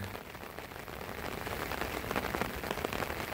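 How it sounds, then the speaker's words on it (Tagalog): Steady heavy rain pours down over a flooded rice paddy and fishpond in the Philippines, a dense, continuous hiss that holds at an even level with no voices. "Sana po tumigil na yung ulan"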